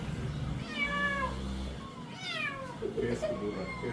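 A brown cat meows a few times, drawn-out rising and falling cries, close and clear over low background noise.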